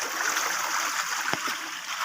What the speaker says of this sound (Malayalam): വെള്ളം ഇങ്ങനെ ഒഴുകുന്നുണ്ട് നല്ലോട്ട്